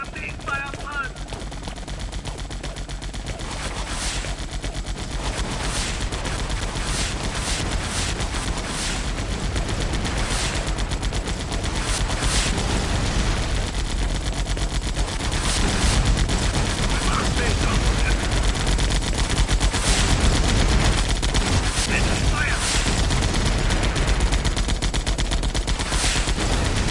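Enemy gunfire in the video game Air Conflicts: Vietnam: dense, sustained machine-gun bursts and rapid shots rattling continuously over a steady background roar, loud throughout and intensifying toward the end.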